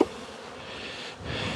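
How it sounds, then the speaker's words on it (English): Honey bees in a crowded nuc hive on a pallet at an outyard, a steady close buzzing drone that swells slightly toward the end, with no talk. "there's a lot of bees in these"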